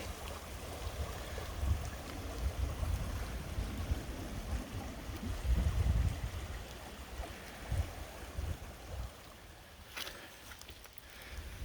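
Swift, fairly deep creek water rushes steadily at a trail river crossing on Low Gap Trail in Morgan Monroe State Forest, Indiana, a continuous close wash with low rumbling and occasional handling bumps.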